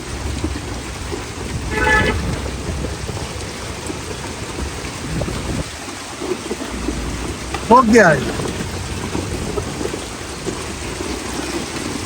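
A heavy hailstorm with very large hailstones pounds down during a bike trip around Lahore, making a dense, constant roar with sharper impacts, and a person speaks briefly over it.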